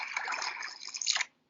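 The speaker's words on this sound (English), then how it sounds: "What was that water noise?" A phone reminder app for drinking water plays a notification sound of trickling, dripping water, a bright burst lasting about a second before cutting to silence.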